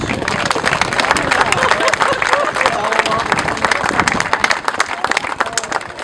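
Audience applause at a brewery opening, a dense, sustained crowd clapping at close range that stays loud and even throughout, with faint crowd murmur underneath.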